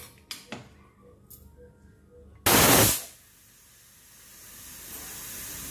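A pressure cooker of prawn soup on a gas stove releases one loud, close, hissing whistle of steam that cuts off abruptly, with a few soft kitchen clicks before it and a quieter steady hiss afterward.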